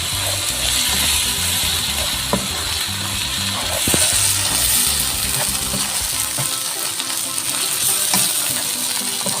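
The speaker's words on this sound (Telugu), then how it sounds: "ఇది కొంచెంసేపు వేగనివ్వాలి ఒక్క నిమిషం పచ్చివాసన పోయేదాకా వేయించుకోవాలి" Ginger garlic paste and ground garam masala frying in hot oil for an egg curry, giving a steady, close sizzle with occasional scrapes and clinks of stirring, and no talking.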